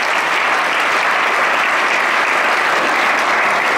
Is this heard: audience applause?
yes